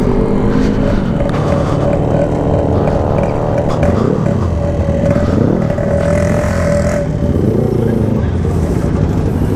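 Yamaha RX King two-stroke motorcycle with a ported OS 150 block, revving hard at speed with rising and falling engine pitch as gears change, loud and close against steady wind roar.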